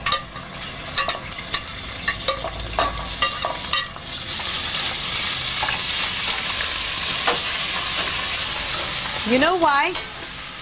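Over-fried spices sizzling in hot oil in a pan as they are stirred, a steady loud crackle with clicks of the utensil, while a person speaks briefly over it.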